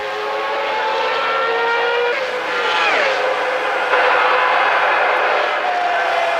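Formula 1 cars from 1996 race past at Monza, led by a Ferrari, with high-pitched screaming engines rising and falling as they pass, one pitch sweeping down sharply mid-way before another car's whine follows.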